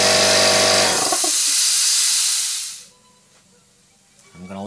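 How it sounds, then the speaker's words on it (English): An air compressor pressurizes a capped casting pressure tank toward about 50 psi, a loud broadband hiss-like roar that runs steadily then cuts off, leaving near silence before another burst starts at the end. "Cap it tight, turn on the compressor. It's going to make a lot of noise."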